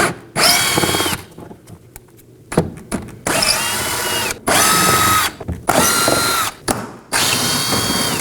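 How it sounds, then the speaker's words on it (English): A cordless drill with a T15 bit backing T15 Torx screws out of the front inner fender liner of a 2018-2024 Chevrolet Equinox, loud close whirring bursts repeated several times with brief pauses and ratcheting clicks. "start removing our T15 Torx screws using a T15"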